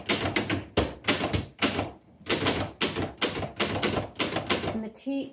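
A 1931 Burroughs manual typewriter with glass keys and metal edges clacks out rapid bursts of crisp keystrokes in uneven clusters, close and loud, ending with a brief ringing tone.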